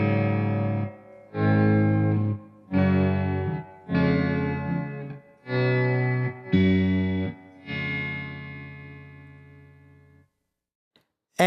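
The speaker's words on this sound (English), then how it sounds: "Let's begin by hearing it as a regular volume pedal." Electric guitar played through a Morley Green Machine pedal set to volume mode: six sustained strummed chords, each swelling in and cutting off, the last one fading slowly into near silence.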